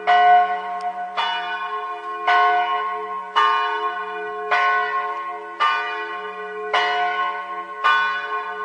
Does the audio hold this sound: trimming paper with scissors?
no